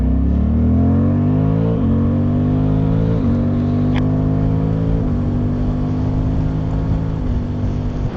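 A Suzuki GSX-8TT parallel-twin motorcycle pulls hard uphill, its loud close engine note climbing steadily through the gears with brief dips at each shift.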